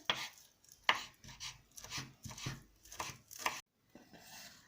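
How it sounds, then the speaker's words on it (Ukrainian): Fresh herbs being finely chopped with a knife on a board for a cabbage pie filling, an irregular run of sharp close knocks, clustered in quick bursts with short pauses, ending in a brief silence and softer scraping. "Тепер зелень дрібненько насікти."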